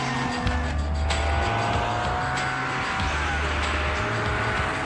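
Aston Martin Vanquish with a 520 brake horsepower engine being driven, a steady engine drone with shifting low tones as it runs, under faint background noise.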